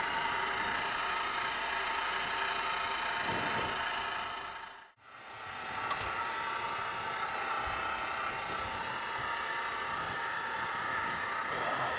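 A homemade vanilla ice cream maker churns with a steady, close mechanical drone that dips briefly to near silence midway before resuming at full level.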